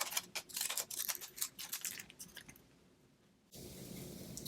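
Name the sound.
scallop scissors cutting paper for Christmas tags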